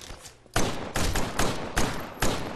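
Pistol shots in the Titanfall first-person shooter ring out as about five sharp, loud cracks at a quick, slightly uneven rhythm, close up and with no talk.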